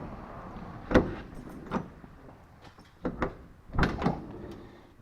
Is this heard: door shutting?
yes